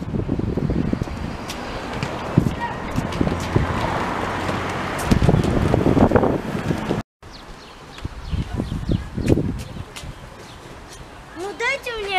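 Gusty wind blows outdoors at a birthday gathering, rumbling steadily across the microphone with stronger bursts and a brief dropout midway, while voices carry on nearby.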